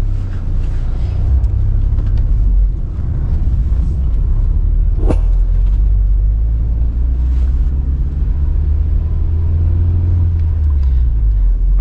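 A UAZ Patriot drives along a winter road, its engine and tyres making a steady, loud low rumble that continues throughout with no one speaking.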